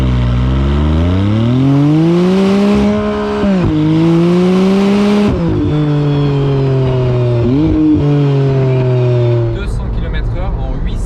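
A McLaren Artura roars loudly as it accelerates hard up through the gears, its engine note climbing and dropping at each shift before easing off near the end, heard from close by.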